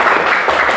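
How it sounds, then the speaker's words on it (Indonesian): Brief burst of group applause from a university class, dense broadband clapping filling under a second at steady loudness. "kita kasih tepuk tangan"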